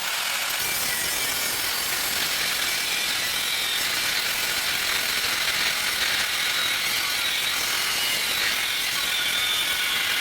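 Metal being cut on a Nissan Hardbody truck, a continuous harsh, rasping grind from a cutting tool held close, steady and unbroken throughout with no talk.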